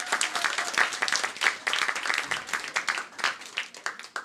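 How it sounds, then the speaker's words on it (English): Applause from an audience at a school evening event honoring Nina Simone, a dense steady wash of many hands clapping for about four seconds with slight swells, fairly near and without talk over it. "Can we give them another round of applause?"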